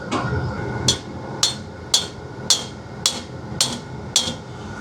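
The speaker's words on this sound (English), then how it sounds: "Let's hammer that one straight." Eight sharp hammer taps on a bent metal band at an even, unhurried pace, straightening it, each a bright ringing strike over a low background rumble.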